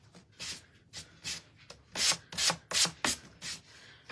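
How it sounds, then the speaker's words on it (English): A wooden heart cutout being sanded by hand: a series of about nine rasping strokes, irregular in rhythm and close up, growing louder toward the end with no talking. "Let's sand this part down."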